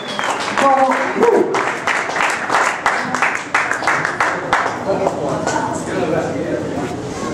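A church congregation at a live worship show claps loudly and close by, in uneven bursts, while voices and vocalizing carry through over the clapping.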